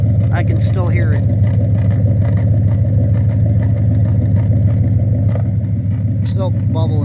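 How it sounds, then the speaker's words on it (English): Car engine idling with exhaust forced through water in an ice-blocked, frozen tailpipe, a constant loud low drone with intermittent gurgling and bubbling bursts layered on top, close and continuous. "Still bubbling water, trying to blow the exhaust through water"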